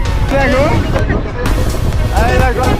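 A small boat moves across water in the Sundarbans mangrove delta, with a constant rushing wash and buffeting wind, and voices talk intermittently over it.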